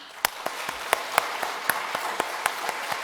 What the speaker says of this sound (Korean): 하나님 앞에 영광의 박수 올려드리겠습니다